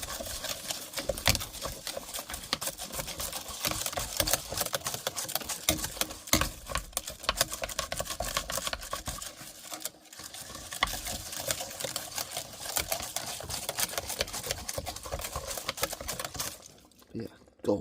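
Gold recovery mixture of computer RAM fingers and CPU pins being stirred and agitated, a dense, continuous rapid clattering and swishing that runs nearly the whole time, loud and close, then drops off abruptly near the end.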